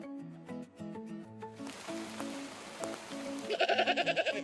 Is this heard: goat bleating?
yes